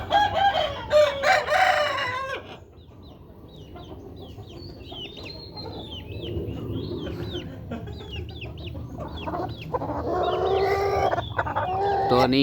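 Young roosters crow and cluck nearby, with a loud crow at the start, a stretch of softer clucks and chirps, then more crowing toward the end, over some background noise.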